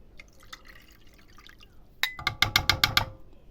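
Water splashes into a glass in a short burst of gurgling, bright glugs after a quieter rustling lead-in, close by.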